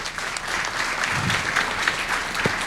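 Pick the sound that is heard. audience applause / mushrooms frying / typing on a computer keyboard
audience applause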